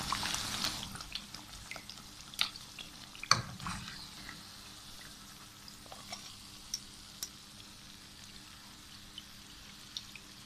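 Naan pakoras fry quietly in oil, a soft steady sizzle with scattered sharper pops and crackles, faint and close with no talking.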